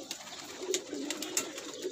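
A Teddy pigeon from a breeding setup gives soft, low coos close by, with a few faint chirps and rustles in the background.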